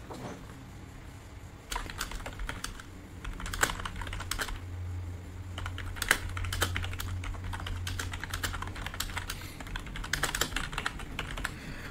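Typing a prompt to ChatGPT on a computer keyboard, a long uneven stream of close, crisp keystrokes with brief pauses and no talk.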